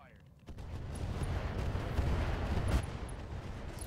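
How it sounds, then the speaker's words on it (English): An explosion and rolling gunfire from the mech combat game RogueTech: a sudden burst gives way to a sustained, loud, rumbling wash of blasts, with a sharp crack near the end. "Jesus, that was an explosion."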